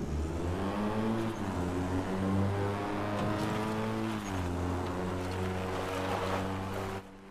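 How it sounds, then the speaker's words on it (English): Vehicle engine in Crossout heard from inside the cabin, a steady loud hum whose pitch rises and falls with throttle changes, then drops off near the end. "Right, so that's the cabin engine sound"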